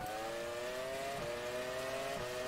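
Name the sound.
BAR Formula 1 car engine nearby, F1 Challenge 99-02 video game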